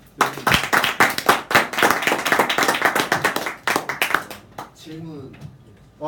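Audience applause closing a lecture at a branch growth session: dense clapping fills the room for about four seconds, then thins out and fades, with a voice heard near the end.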